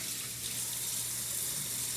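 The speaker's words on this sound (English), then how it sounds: "Did you know the proper way to wash your hands when you go to the bathroom" Water runs steadily from a bathroom tap while hands are washed, a continuous hiss with a low hum underneath, faint and even throughout.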